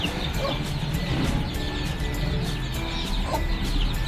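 A hen and her chicks cluck steadily close by while being fed chopped bottle gourd, the soft clucks and cheeps continuing throughout over a constant outdoor background hum.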